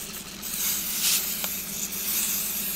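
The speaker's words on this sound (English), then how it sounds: "So I'm just using canola oil spray, any vegetable spray" A short hiss of canola oil cooking spray coating sweet potatoes, a steady airy spritz that swells for a moment near the middle, heard close up with no talking.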